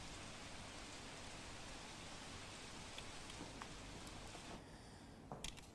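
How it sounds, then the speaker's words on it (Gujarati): Rain driven by wind falls over Savarkundla town in Gujarat's Amreli district, a dense, even hiss of steady unseasonal rain with a few faint knocks near the end. "સાવરકુંડલા શહેરમાં પવન સાથે જે વરસાદ વરસી રહ્યો છે"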